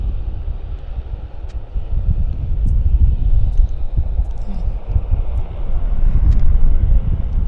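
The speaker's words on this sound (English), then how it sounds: "so we've got a Q400. The Q400 is from Kamloops." Air Canada Jazz Q400 turboprop at Vancouver airport, a low rumbling drone that swells gradually, heard from a distance through wind buffeting on the microphone, with no talk.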